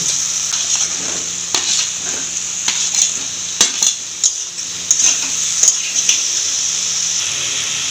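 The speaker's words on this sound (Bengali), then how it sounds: "মশলাটা কষানো হয়ে গেছে টমেটোগুলো গলে গেছে বন্ধুরা দেখো এবারে দিয়ে দিব ভেজে রাখা আলু" Fried potatoes go into a spiced tomato masala for prawn malai curry, a spoon scraping and stirring steadily against the pan with repeated clinks over a continuous sizzle, close up and alone.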